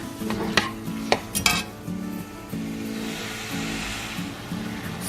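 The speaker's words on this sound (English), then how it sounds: "Mix well" A utensil stirs egg roll in a bowl filling of pork in a pan over medium heat, with a few sharp clinks and scrapes against the metal over a light background sizzle.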